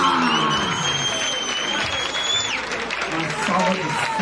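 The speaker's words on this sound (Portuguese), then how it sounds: "Uma salva de palmas!" Crowd applause and cheering at a rap battle fill the whole span at steady volume, with whistles or shouted voices rising over the clapping and a talking voice mixed in.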